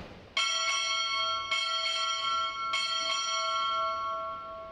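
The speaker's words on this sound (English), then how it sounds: "Six bells." Six bells struck on a ship's bell at a Navy ROTC graduation ceremony: six clear, ringing strikes in three evenly spaced pairs, each tone sustaining and slowly decaying between blows.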